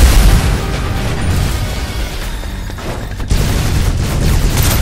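Suppressive gunfire and explosions in the SnowBreak: Containment Zone video game form a loud, dense, continuous roar of blasts and rapid bursts that keeps up without a break.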